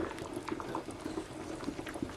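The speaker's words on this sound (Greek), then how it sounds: "10 λεπτά μετά έχει αρχίσει και βράζει για τα καλά." A pot of chicken soup with olive oil boils steadily, giving close, low-level bubbling with rapid irregular pops and gurgles and no voices.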